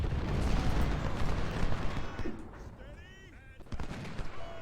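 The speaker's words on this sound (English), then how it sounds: "That way we're now firing at them from the flank." Gunfire and artillery fire in the Ultimate General: Civil War strategy game, a dense rumbling barrage of shots and booms throughout, fading slightly then bursting again.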